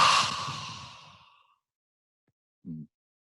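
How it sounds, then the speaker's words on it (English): A long breath exhaled through an open mouth during a yoga session, a close, airy sigh that fades over about a second and a half, followed by silence and a short soft vocal sound. "This time open your mouth and exhale through an open mouth."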